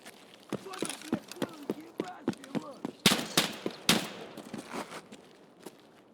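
Gunfire in Escape from Tarkov, a rapid series of sharp shots in irregular bursts with a couple of louder, closer blasts midway, and a voice speaking briefly over it.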